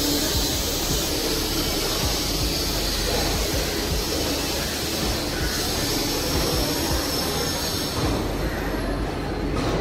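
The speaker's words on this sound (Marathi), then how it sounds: "तर आता आले दुसरी ट्रेन." A Mumbai local train arrives at a station, with a loud continuous rumble of wheels on track and a rising metallic screech near the end.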